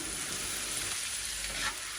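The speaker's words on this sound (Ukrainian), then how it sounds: "пательня нагрілася, і ми можемо підсмажувати нашу цибульку." Steady, soft sizzling of onion frying in a pan, a continuous crackling hiss with faint clinks near the end.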